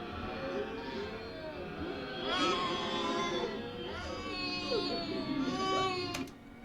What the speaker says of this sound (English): So what I did, I took a baby scream and processed it, and that's how it sounds.